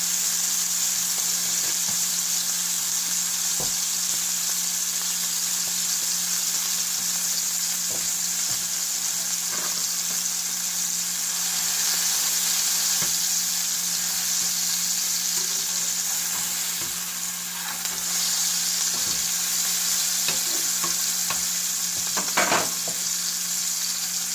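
Steady sizzling of a burger patty frying in a hot pan, with occasional soft clicks and stirring noises, close and continuous.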